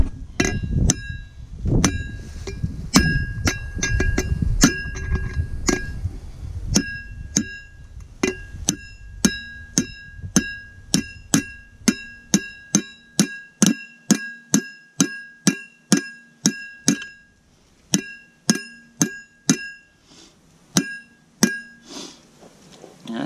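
Metal-on-metal hammer blows ring out in a steady series of sharp clanks while a trailer wheel bearing is driven in, dozens of strikes with a bright metallic ring, loud and close, some rumble early on.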